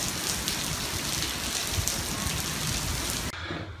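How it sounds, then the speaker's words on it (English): Heavy rain pours down in a dense, constant hiss, drumming close by before cutting off abruptly near the end. "That's how hard it's raining."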